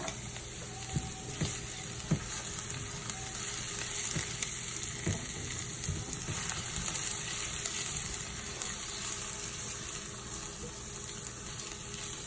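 Onions sauté in olive oil for risotto, giving a steady, close crackling sizzle with occasional stirring clicks and scrapes throughout, and no talking.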